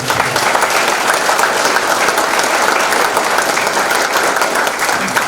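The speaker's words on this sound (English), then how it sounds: "One more huge round of applause." Thunderous audience applause for hall of fame inductees at an induction ceremony, a dense, steady roar of many hands clapping close and loud throughout, with no pause.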